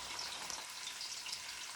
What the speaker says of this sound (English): we're going to let that sear for about 2 to 3 minutes